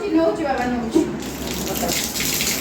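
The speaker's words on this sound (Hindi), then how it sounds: "मुँह भी भल से धोई दे" Water runs from a tap during face washing, a steady splashing gush close by, with splatter changing as hands move through the stream and a voice speaking briefly.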